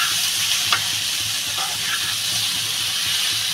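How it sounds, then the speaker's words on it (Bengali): Prawns are stir-fried in a pan for a Bengali recipe. A loud, steady sizzle and hiss fills the whole stretch, with faint stirring scrapes and no talking. "চিংড়ি মাছটা ঢেলে দিয়ে কষা দেবো"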